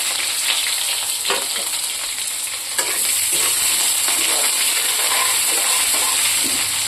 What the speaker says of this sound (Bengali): এটা একটু বাদামি বাদামি করে ভাজবো।